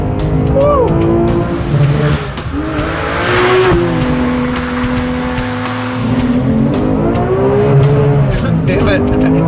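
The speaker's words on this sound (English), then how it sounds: "I hit the limiter again" A high-revving Porsche 911R engine screams loudly, repeatedly bouncing off its rev limiter with stuttering pitch drops, with tire squeal and a voice heard over it.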